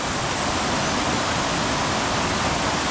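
The short, clear Krupa mountain river rushes near its source on its way into the Vrbas, a loud, constant, close wash of flowing water with no voices.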